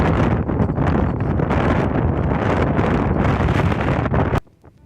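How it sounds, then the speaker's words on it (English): Strong wind buffets the microphone on an exposed hilltop common at Cleeve Common in Gloucestershire, a loud continuous roar and rumble that cuts off abruptly near the end. "Oh, and did I mention the wind?"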